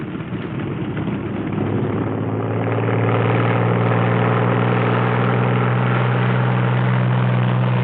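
An aircraft engine drones steadily at close range as a plane taxis out, a loud, even, low hum that builds slightly in the first few seconds and then holds, with no talk.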